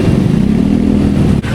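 A motorcycle tricycle engine runs loud and close, a steady chugging idle with rattling mechanical clatter for about a second and a half.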